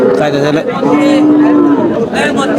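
A bull moos loudly and close at a cattle market, a long drawn-out low call with a brief break, while a person's voice overlaps briefly.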